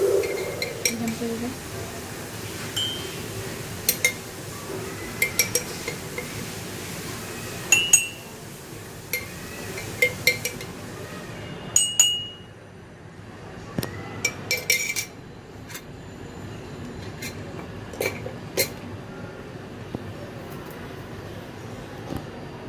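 A spoon clinks against cups as milk powder and sugar go in for coffee, giving light scattered taps and chinks over a steady low background hum.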